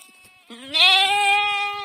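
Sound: sheep bleating

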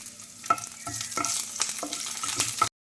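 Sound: curry leaves frying in hot oil

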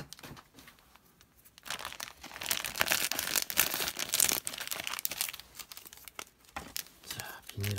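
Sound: tearing open plastic bag of a model kit

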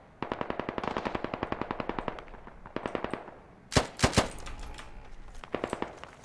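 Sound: gunshots fired by the player in a video game

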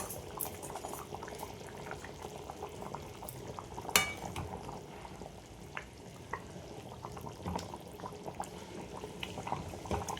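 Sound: chicken curry gravy boiling in a pot

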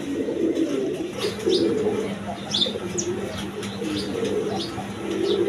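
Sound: male pigeon cooing

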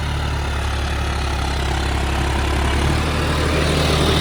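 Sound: tractor engine running

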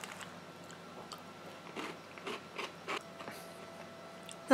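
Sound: eating Mornflake Chocolatey Squares cereal with milk

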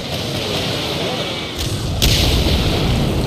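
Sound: Nebelwerfer rocket artillery fire in video game Medal of Honor Allied Assault

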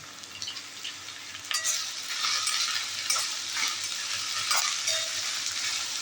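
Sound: big onion frying in pan with chilli paneer vegetables

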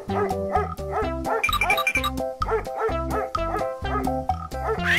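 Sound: dog barking

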